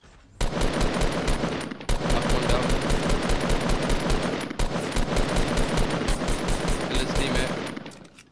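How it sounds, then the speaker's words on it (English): Rapid, continuous automatic gunfire in a Fortnite duo match, loud and close, rattling almost without pause for about eight seconds with two brief breaks in the burst. "I'm being shot from behind."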